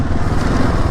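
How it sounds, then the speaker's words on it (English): A Gen 3 KLR 650 motorcycle on an ATV trail gives a loud, close, rapid exhaust burble in one brief burst, with no voices. "I guess maybe the exhaust is just too loud."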